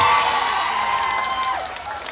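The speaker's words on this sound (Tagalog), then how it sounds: "Malakas ang palakpak ng ulit" Crowd applause and cheering at an outdoor aid event for residents of Baseco, a steady wash of clapping with whoops, loud and continuous throughout.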